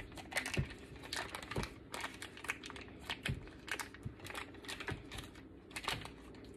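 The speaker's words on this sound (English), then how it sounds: "I'm gonna cut this butter" A knife slices thinly through a stick of butter for a sweet potato dump cake. Close, quiet cuts and soft taps come in an uneven rhythm, about a dozen in quick succession, with no voices.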